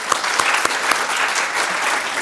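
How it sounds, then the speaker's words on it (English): An indoor audience at a university awareness session claps steadily, a dense burst of applause with a few sharp individual claps standing out near the start. "Mr. Liam, please give him a big round of applause"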